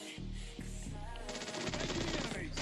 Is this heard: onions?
no